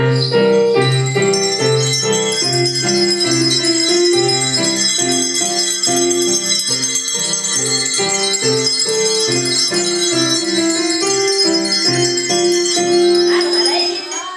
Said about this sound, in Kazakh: Қоңырау.